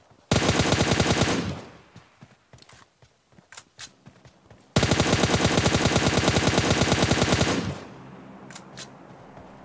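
Two long, loud bursts of rapid automatic gunfire from a battle royale video game fight, separated by a few seconds of scattered fainter shots and footstep-like clicks.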